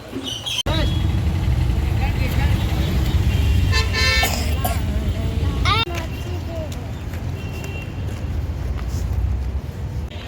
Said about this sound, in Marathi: आता आम्ही चाललो आहोत ऑटो रिक्षाने शाळेत.